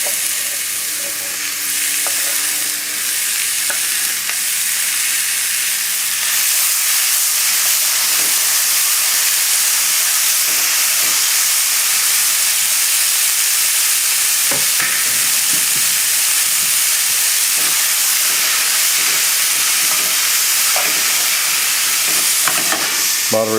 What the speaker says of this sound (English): As long as you hear that sizzling, we're doing well.